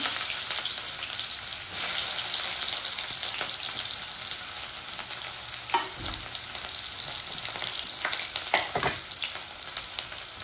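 Onions and cumin with mustard seeds sizzle and crackle loudly in hot oil in a pan, a dense continuous fry with occasional scraping stirs.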